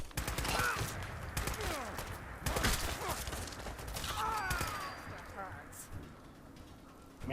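Gunfire in the Fallout video game, rapid bursts of shots and impacts repeating throughout, moderately loud, with a voice talking over parts of it.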